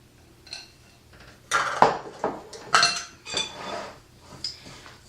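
A spoon clinks and scrapes in a bowl, mixing peanut butter, honey, vanilla and dry ingredients for a dessert; a handful of close, irregular knocks sit over faint background quiet.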